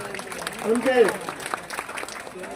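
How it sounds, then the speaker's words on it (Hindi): A rally crowd on Jantar Mantar claps moderately loud and continuously, while someone speaks in Hindi over the applause. "आप उनके लिए तालियां बजाइए जननायक चौधरी देवीलाल जी के लिए।"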